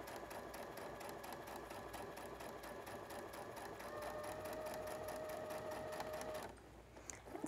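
A sewing machine stitches steadily down a blouse placket, a continuous close whirring hum with fine rapid needle clatter that runs for about six seconds, then stops and leaves only light handling noise.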